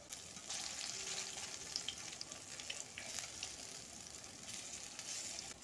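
Puti fish and sour lentil fritters sizzle steadily in hot oil, a dense, even crackle with small pops, fairly quiet and without any talking.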